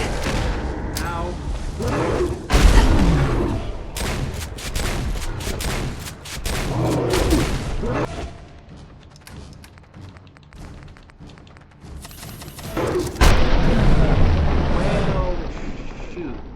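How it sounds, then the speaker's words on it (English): Grenade explosions from the video game Fallout 4: repeated heavy booms and thuds in bursts, loud and close, with dense blasts at the start and again near the end, and a lull of quieter rumble between them. "Throw all the grenades. All the grenades. All of them. Throw them."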